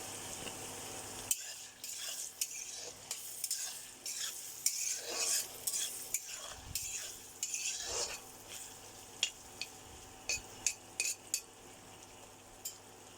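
Fried potatoes are stirred in a hot pan as turmeric powder is added, giving a steady close sizzle and frying hiss broken by repeated scraping and light clinks of a spoon against the pan.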